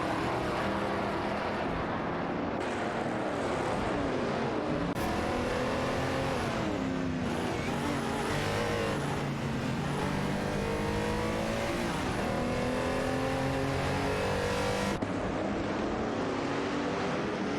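AI-driven race cars, among them an Aston Martin V8 Vantage and a Chevrolet Corvette C3, battle through corners in a racing video game, their engines whining and sweeping up and down in pitch with shifts, continuous and close with no talk.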